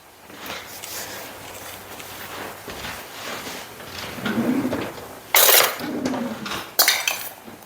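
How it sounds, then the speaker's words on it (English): Nacho ingredients being folded together in a bowl: clinks and scrapes of a utensil against dishware rise and fall for several seconds, ending in two sharp, louder clatters, with no talking. "So we're going to give that a mix."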